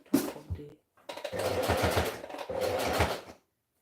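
Sewing machine stitching along a gather stitch line on fabric, running in three close, steady bursts with brief stops between them.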